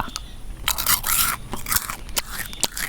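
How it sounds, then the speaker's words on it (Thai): Close, loud crunching and biting of a freeze-dried chocolate snack, brittle cracks and scraping chews in quick irregular bursts, with no speech. "มันกรอบ"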